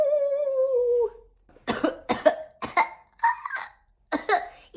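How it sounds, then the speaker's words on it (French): After a short tonal squeal, a series of dry coughs and throat sounds come in bursts with short pauses between them, close and fairly loud. "Il tousse."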